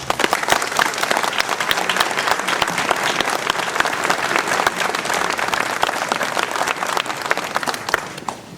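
A large audience in the Ouistreham Riva-Bella town hall claps steadily through the mayor's 2016 New Year address, a dense, even applause that holds loud for about eight seconds before thinning slightly at the end.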